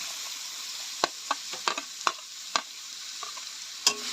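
Soft sizzling of carrots and beetroot frying in a pan with scattered scraping clicks as a utensil stirs, quiet and close, no voices.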